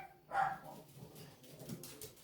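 A dog on a Southern farm gives one short, faint bark from some distance, followed by quiet background noise.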